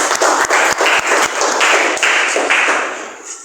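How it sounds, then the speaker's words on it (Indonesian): Students in a classroom clap together in a quick, loud rhythm of sharp claps that trail off toward the end, with no voices over them. "Tepuk tangan."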